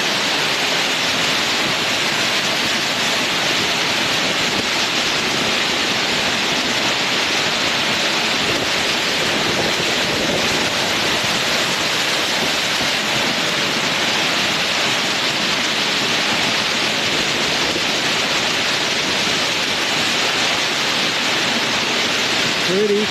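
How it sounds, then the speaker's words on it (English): Water roars loudly and continuously at the base of Cascade Falls, a dense broadband rush that stays constant and close for the whole stretch with no break. "I don't know if you guys can even hear me with that water roaring."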